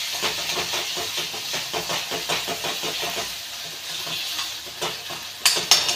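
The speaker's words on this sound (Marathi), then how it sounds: "छान असा परतून घेतला" Onion and tomato with a pinch of salt sauté in a pan, a close sizzling hiss broken by a rhythmic series of scraping, stirring strokes, ending with a couple of louder clatters, with no talking.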